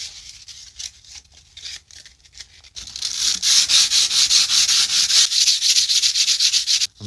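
A vintage Warranted Superior handsaw blade is hand sanded with 150 grit sandpaper: soft scattered strokes at first, then a loud, steady run of rapid back-and-forth rasping close by.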